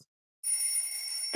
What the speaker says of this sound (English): Time to get to work. The alarm is ringing.